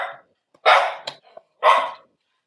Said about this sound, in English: We got Murphy barking.